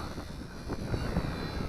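A small WLtoys V931 RC scale helicopter makes a flyby over a little hill, its whining motor drone rising slightly and then easing off over a couple of seconds in open air.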